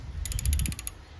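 A brass nut is tightened on a Craftsman track-drive snowblower, giving a brief run of quick metallic ratcheting clicks up close, lasting about a second and not masked by talk.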